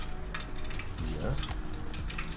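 Soft, quiet sizzle of sawagani crab frying in a pan, with faint stirring and scraping sounds and a little background talk.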